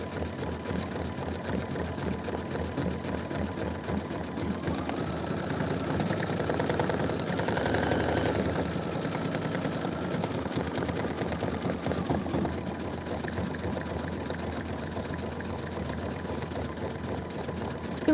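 An embroidery machine stitches a satin outline of a bottle, a steady rapid mechanical chatter with a continuous motor drone running throughout at moderate loudness.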